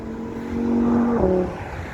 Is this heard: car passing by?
yes